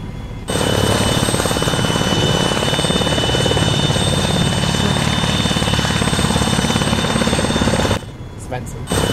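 Helicopter in the video game ArmA 3 drones loudly with a constant rotor thump and engine whine, cutting out abruptly near the end before resuming.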